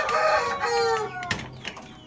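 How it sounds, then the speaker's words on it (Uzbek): Young chicks call up close, a loud burst of sliding, high chirps followed by a few shorter peeps within about two seconds. "Bular bola jo'ja, yosh hali."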